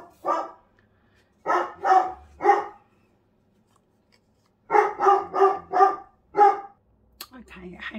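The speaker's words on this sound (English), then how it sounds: "hopefully has stopped barking" A dog barks in two bursts, a few sharp barks, a pause, then a quicker run of five or six loud nearby barks, in a quiet indoor room.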